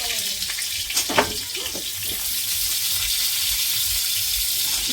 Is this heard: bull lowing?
no